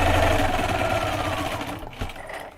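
Quilt pieces being stitched on a sewing machine make a steady, fairly loud whirring drone with a fast rhythmic rattle, which runs continuously and then slows and fades as stitching stops near the end; no one speaks.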